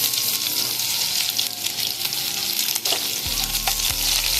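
Thinly sliced onions sizzling loudly in hot oil in a pan, a steady dense frying hiss with stirring scrapes, growing louder near the end; no talking.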